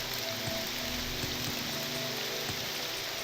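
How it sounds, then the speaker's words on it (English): Steady rain patters across a surface in the game Morrowind, a constant dense hiss with scattered droplet ticks and no voices. "It's raining out there."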